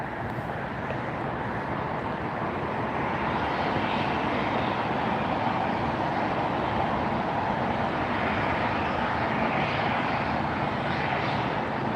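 A Boeing 757 jet arriving at LAX on a flight from Boston roars steadily overhead at night, a broad, loud engine rush that swells slightly and holds for the whole stretch, with no talking.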